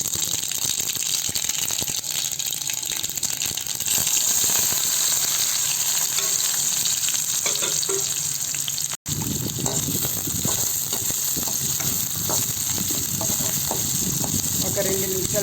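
Mustard seeds crackle and sizzle in hot oil being heated for tempering in a pan. The frying sound is loud and continuous, with sharp pops scattered through it and a brief break partway.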